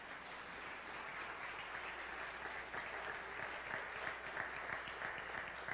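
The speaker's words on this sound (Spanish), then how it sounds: "dense un aplauso ustedes ahí." Church congregation applauding steadily, a soft, even wash of many clapping hands heard from a distance, continuous throughout without talk.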